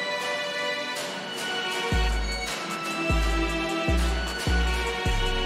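Juncture preset from the Animated Orchestra Kontakt library plays a dense, sustained orchestral texture, with deep bass drops punching in at uneven intervals beneath it, loud and with no talking.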